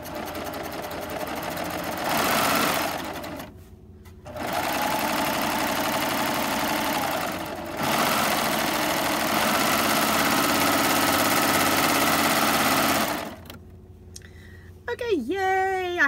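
A serger sewing machine runs in loud, steady bursts as it serges the bottom of a shorts leg, humming evenly with short pauses between runs, and a voice speaks briefly at the end.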